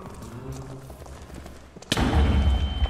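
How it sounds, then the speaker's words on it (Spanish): A bunker blown up in Minecraft: after quieter game sounds, a sudden loud blast erupts near the two-second mark and rumbles on to the end. "Otra vez me explotan el búnker"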